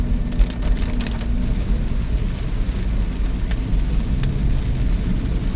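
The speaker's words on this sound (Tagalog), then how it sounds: "Ulan pa rin ang ulan. So maulan na gabi ang biyahe." Heavy rain during a night drive through a subdivision, a dense low rumble of road and engine noise under a steady wash of rainfall, with occasional faint ticks of drops.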